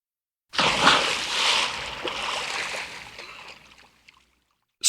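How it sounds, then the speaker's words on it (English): A single watery splash followed by a few seconds of sloshing and dripping that gradually fade away. "Splash."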